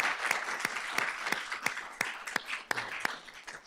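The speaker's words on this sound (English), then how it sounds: "Can we give him a round of applause, please, and his team?" Applause at a board of trustees meeting: a small group clapping in a fairly regular rhythm of distinct claps, moderately quiet and brief.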